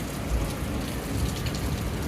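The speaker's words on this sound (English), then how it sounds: "thunder in the background" Rain falls steadily on a balcony during a vacation, with a dense close hiss of drops and faint low rumbles of thunder in the distance.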